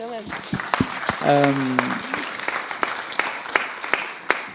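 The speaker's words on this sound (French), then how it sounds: "Oui, applaudissez." An audience claps at a round table on energy transition and citizen cooperation, a modest scattered applause alongside a speaker's voice.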